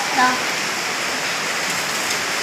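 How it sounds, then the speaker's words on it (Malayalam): Steady, dense hiss of heavy rain falling continuously, with no breaks or individual drops standing out. "ഇവിടെ ഭയങ്കര മഴയാണ്."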